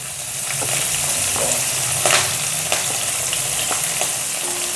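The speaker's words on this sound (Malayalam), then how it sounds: "പച്ചമുളക് ഒന്ന് നന്നായിട്ട് മൂത്ത് വരണം കേട്ടോ." Green chilies fry in hot oil with mustard seeds and curry leaves while Kerala-style puli inji is being made. The sizzle is steady, close and continuous, with a few sharper crackles and no talking.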